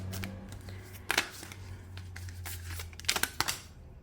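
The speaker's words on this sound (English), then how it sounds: "Let's keep shuffling." A deck of tarot cards is shuffled by hand, soft riffling and sliding with a few sharp flurries of card slaps, quiet and close, with a low background hum and no talk.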